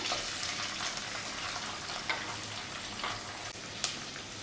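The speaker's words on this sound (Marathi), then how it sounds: "कांदा तेलात चांगला परतून घेऊया" Finely chopped onions frying in oil in a pan, with a soft, steady sizzle and faint occasional clinks. The sound is fairly quiet and continuous.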